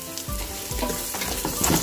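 Carrots frying in a large pot (kaserola) while making sopas: a steady close sizzle with a few louder scraping stirs of a spoon against the pot, continuous throughout the short stretch.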